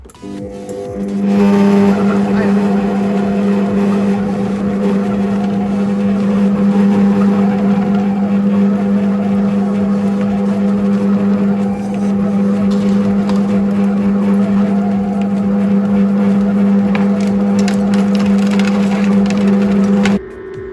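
A Fagor Connect kitchen robot mixes brioche dough, droning loudly and steadily with a low motor hum and rattling, churning continuously for about twenty seconds.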